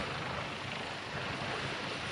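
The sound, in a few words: twin-engine 6-ton class helicopter flying display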